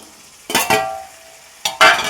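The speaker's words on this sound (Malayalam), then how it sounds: "ഇതൊക്കെ കൂടെ ഇങ്ങനെ ഇളക്കുക മിക്സാക്കുക മിക്സ് വെൽ അല്ലേ" Food stirred and mixed in a frying pan, with two short bursts of scraping and sizzling separated by a quieter stretch, fairly close and with no talking.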